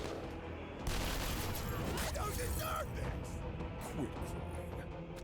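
Gunfire in the turn-based tactics game Menace, a loud sustained burst of rapid shots lasting a couple of seconds, followed by mechanical clatter and trailing echoes, with people talking over it.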